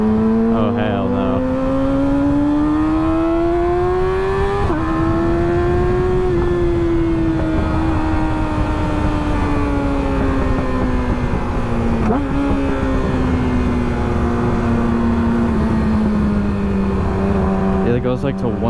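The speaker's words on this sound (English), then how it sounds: "I forgot there's like hella traffic over here." A car engine drones steadily in heavy road traffic, its pitch rising and falling as it speeds up and slows, with a constant loud rumble around it and talk over the top.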